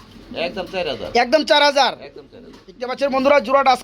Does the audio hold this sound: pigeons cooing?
yes